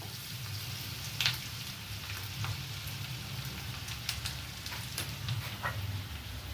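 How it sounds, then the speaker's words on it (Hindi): Garlic frying in a pan until light golden, a soft, continuous sizzle with faint crackles and occasional stirring clicks, close and fairly quiet. "एबे जो रसुण टा को आमे टिके हल्का गोल्डन कलर फ्राई कर नबा।"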